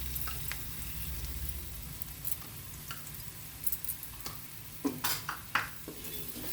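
Green chili paste frying in a pan for shavige pulav gives a steady, close sizzle, with a few sharper scrapes and clinks of stirring toward the end.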